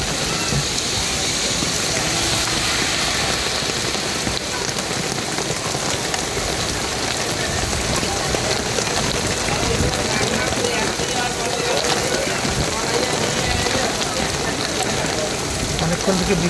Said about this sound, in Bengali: অনেকক্ষণ থেকে বৃষ্টি হচ্ছে